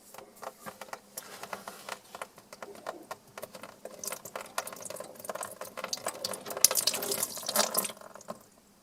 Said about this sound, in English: this is why I've got the pan down here to catch that extra water plus the towel